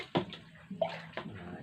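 Water pours into a pot holding five or six ears of corn set to boil, a splashing, sloshing rush in a few uneven bursts, close and moderately loud.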